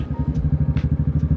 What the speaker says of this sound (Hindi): कोई हार्ले डेविडसन लेके खड़ा हुआ था यार। Sound was really nice.